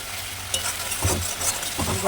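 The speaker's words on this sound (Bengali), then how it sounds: "মশলাটা তাই কষাচ্ছি ভালো করে কষানো হোক" Spice paste (masala) sizzles and fries in a pan as a spoon stirs it. A close, steady crackle runs throughout, with soft scraping strokes, and no talking.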